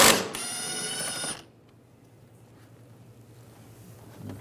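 Ratchet with a T45 socket working a bolt loose under the hood of a 2009-2010 BMW 535i xDrive with a 3.0L inline-six: one short, close whirring burst of about a second, then near silence.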